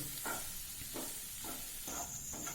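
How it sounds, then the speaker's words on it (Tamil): Boiled eggs being gently stir-fried with masala and capsicum in a pan, a steady sizzle under repeated soft scraping strokes of a spatula at an even rhythm, close and moderately quiet. "முட்டையை சேர்த்து முட்டை உடையாத இருக்க லேசாக வதக்கணும்."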